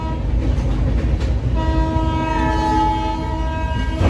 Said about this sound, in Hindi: बैठ गई हूँ मैं ट्रेन में and मेरी ट्रेन चल भी गई है